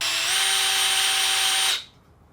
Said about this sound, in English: Let's grab a drill and see if that actually works.